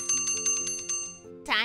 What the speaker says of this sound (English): kids line up when the bell rings